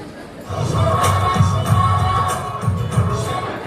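Crowd cheering and clapping at a live fashion show model hunt, a lively mix of applause and voices with thumping music underneath.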